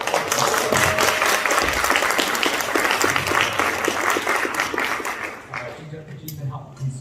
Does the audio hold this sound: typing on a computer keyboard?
no